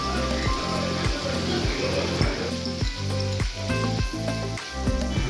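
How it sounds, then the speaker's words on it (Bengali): A paste of ginger, onion, garlic and chili hits hot oil already seasoned with whole garam masala, giving a loud, steady sizzle over a constant tonal backdrop. "ঠিক সেই তেলেই গোটা গরম মশলা ফোড়ন দিয়ে আদা, পেঁয়াজ, রসুন আর লঙ্কা বাটাটা দিয়ে দেব।"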